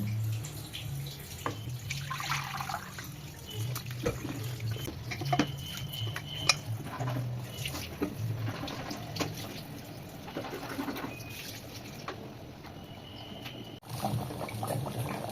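Boiled mutton with its liquid is poured into a hot pot, giving soft splashing, dripping and trickling sounds with occasional clinks, fairly quiet and close, with no talk.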